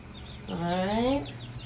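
Chickens on a farm in Caribou, Maine give a single drawn-out, rising call lasting about half a second, moderately close, over low background noise.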